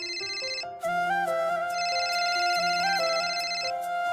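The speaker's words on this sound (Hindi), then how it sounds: "देख तो किसका फोन आ रहा है" A phone ringtone plays a loud, bright electronic melody of repeating notes that runs steadily, with no voices over it.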